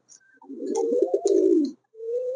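Blue satin pigeon cooing up close: a short opening note, then a long throaty rolling coo, a brief pause, and another low coo starting.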